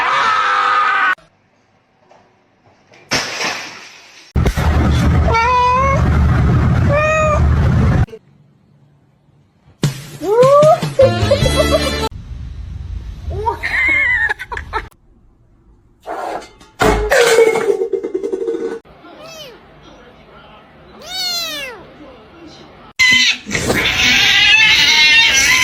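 A male cat meows and caterwauls in repeated drawn-out cries with short pauses between them, loud and close, with a few brief human voices in between.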